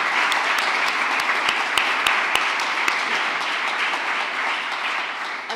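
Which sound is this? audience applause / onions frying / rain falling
audience applause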